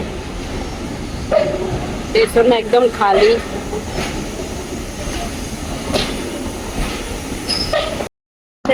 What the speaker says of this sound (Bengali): একটা মাল গাড়ি যাচ্ছে